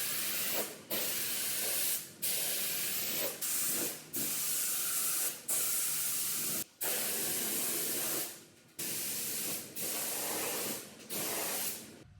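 A spray gun lays light coats of paint over the primer on a car fender: about a dozen close, loud hissing bursts, each a second or so long, separated by short pauses.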